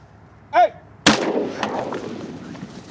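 A single close, loud shotgun blast fired during a North Dakota duck hunt, a sharp crack followed by a rolling echo and lingering field noise, with a brief duck call sounding just before.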